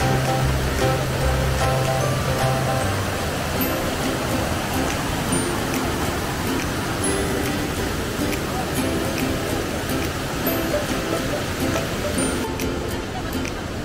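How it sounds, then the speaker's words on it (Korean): Constant roar of rushing water from Datanla Falls in Da Lat, Vietnam, loud and unbroken, with a faint voice briefly audible near the start. "폭포가 있어서 거기를 보러 왔습니다."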